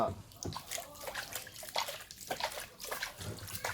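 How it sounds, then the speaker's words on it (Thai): About five liters of water poured onto damp coconut coir, an uneven splashing trickle at low level with faint background noises. "แล้วก็เอาน้ำลงไปเลยประมาณห้าลิตร"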